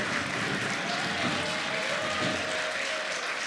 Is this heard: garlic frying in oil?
no